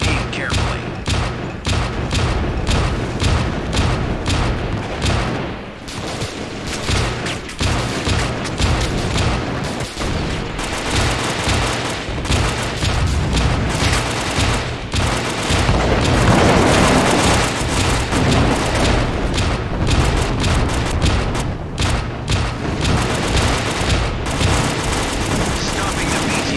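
Dense, continuous battle noise from the Joint Operations video game, with AT-4 rocket launcher shots, explosions and heavy machine-gun fire. The loud volleys and booms roll on without pause.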